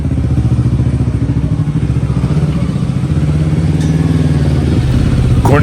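A Bristol Bobber 650 motorcycle is ridden through corners, its engine a loud, steady, throbbing rumble that runs without a break.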